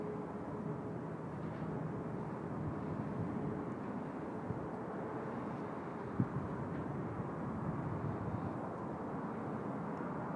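A Thai Airways Boeing 747 taking off from runway 16 left at Seoul Incheon Airport, a steady broadband jet roar heard from a distance for ten seconds without voices.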